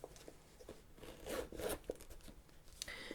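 A zipper inside a purse being pulled open and shut in a few quick rasping strokes, close up, with soft rustling of fabric around it.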